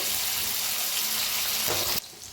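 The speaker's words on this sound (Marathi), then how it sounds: "आता तेल जे आपलं चांगलं तापलं या त्याच्यात तो लसूण आणि मिरची फुटलेली टाकूया आता हलवून जरा भाजून घेऊया" Garlic and green chili fry in hot oil for a rustic fenugreek leaf dish, a dense, loud hissing sizzle that holds steady and then drops suddenly to a quieter hiss near the end.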